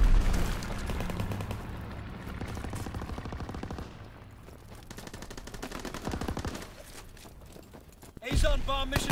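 Continuous automatic gunfire in a Roblox shooting game, rapid rattling shots through most of the stretch, fading somewhat midway, then a louder burst near the end.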